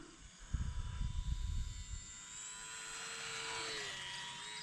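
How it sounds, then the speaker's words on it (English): An E-Flite UMX F4U Corsair RC model plane flies overhead with a thin, high electric whine that rises and bends in pitch as it passes, after a spell of wind-buffeted handling noise. "gotta keep an eye on where the plane is too"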